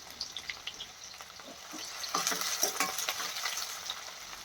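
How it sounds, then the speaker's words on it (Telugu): Two large chopped onions sizzle and fry in hot oil for an okra and green chilli dish, with a steady close crackle and brief stirring scrapes building in the middle, no voices. "ఈ విధంగా వేసుకున్న ఆయిల్ వేడయ్యాక 2 పెద్ద సైజు ఆనియన్స్ ముక్కల కింద కట్ చేసుకొని ఈ విధంగా వేసుకుంటున్నాను"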